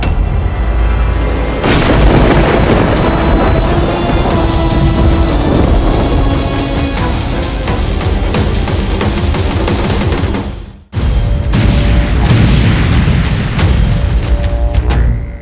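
Blast effect for the Indrastra divine weapon in a Ramayana TV series: a loud, dense roaring barrage of booms and crackling bursts that cuts out abruptly near the end, then resumes as heavy rumbling.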